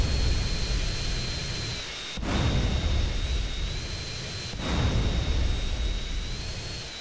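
A jet-like airplane engine roars steadily in GTA San Andreas, a broad constant noise that swells and fades with two brief dips, with no talk over it.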